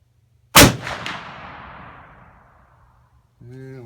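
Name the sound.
CVA Wolf in-line muzzleloader firing 270-grain Shockwave bullet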